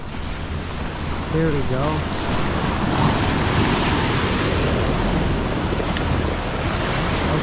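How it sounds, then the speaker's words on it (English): Rough, aggressive ocean waves crash on a beach at Nusa Penida, a loud continuous roar of surf with wind buffeting the microphone, and a person speaks briefly near the start. "That's this aggressive waves."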